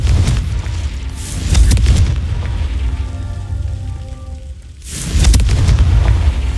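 Fiery Confringo spell blasts in the video game Hogwarts Legacy: a loud booming explosion with a crackling, rain-like roar, fading briefly before a second heavy burst.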